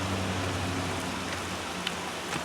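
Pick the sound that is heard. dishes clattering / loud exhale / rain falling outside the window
rain falling outside the window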